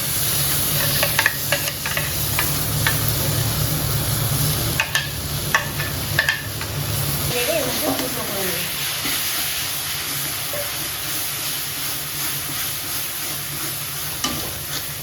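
Continuous hiss and sizzle with scraping strokes as a sweet milk and chhena mixture with ghee is stirred in a hot pan, steady and close, with no talking.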